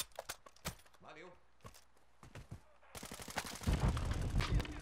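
Sniper and other gunfire in the Warzone DMZ video game, a series of sharp cracks scattered among voices, then a denser burst of rapid shots toward the end.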